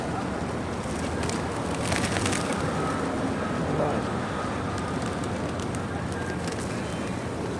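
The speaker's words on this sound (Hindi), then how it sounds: "बस जी कबूतरों को दाना डाला जा रहा है।" Steady outdoor bustle with soft bird calls and cooing, a flock of pigeons pecking at scattered grain and fluttering close by, with no one speaking.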